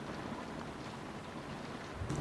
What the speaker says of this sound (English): we got ourselves another rainy little afternoon